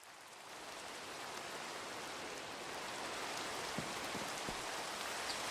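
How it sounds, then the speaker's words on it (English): Minecraft rain falls as a constant, even wash of noise that builds gently over the first seconds and then holds steady, with no voices. "It's raining."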